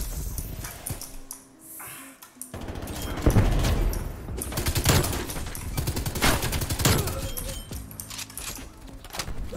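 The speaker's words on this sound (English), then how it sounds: "Playing that suppressive fire." Sustained suppressive gunfire in Call of Duty Cold War, dense bursts of automatic shots rattling loudly and continuously through the whole stretch, with no speech over it.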